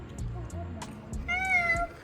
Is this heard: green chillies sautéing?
no